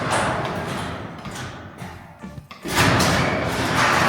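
A manual garage door at a Las Vegas home rumbles as it closes. It settles into a few quieter knocks and thuds, then a louder rolling rumble follows close by.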